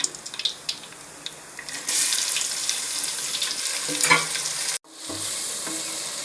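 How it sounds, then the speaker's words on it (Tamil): Green chillies and crushed shallots sautéing in a pan for mutton biryani give a steady, fairly loud frying hiss with stirring, a brief dropout near the end, then the sizzle resumes. Water runs from a tap at times underneath. "இது நல்லா ஆகிற வரைக்கும் நல்லா வதக்கணும் இது கலராக வரணுங்க"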